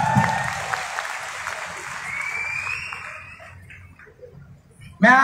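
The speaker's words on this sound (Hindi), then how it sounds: "जोरदार तालियां सबके लिए" Crowd applause at a stand-up comedy show in Haridwar starts fairly loud and gradually thins and fades over several seconds, with some tonal background sound. It ends abruptly as a voice comes in.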